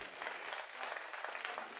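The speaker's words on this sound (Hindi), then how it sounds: "सही कह रहा हूं तो ताली बजा के मुझे बताओ।" Audience clapping at a Hindi poetry recital in a stadium, a short burst of dense, faint applause heard from a distance with no voices.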